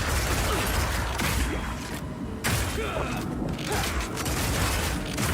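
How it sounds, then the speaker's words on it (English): A heavy impact from the Power Shot skill striking an armor-broken enemy's weak spot in Path of Exile, followed by mechanical clanks, thumps and a dense stream of combat effects, with a voice talking faintly underneath. "your Power Shot hits a weak spot and does a huge amount of single target damage, with a bunch of extra stun for good measure"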